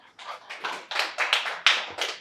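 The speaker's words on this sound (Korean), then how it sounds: "오늘 박수 쳐주세요." A few people clapping close by at a small church gathering: distinct, uneven bursts of hand claps, about eight loud slaps in quick succession with short gaps between them.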